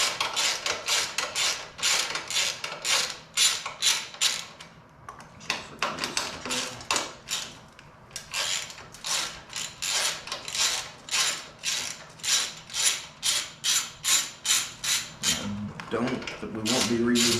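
A ratchet clicks in quick repeated strokes backing out 10 mm bolts from the factory skid plate of a Honda TRX450R, rhythmic close ratcheting bursts with brief pauses.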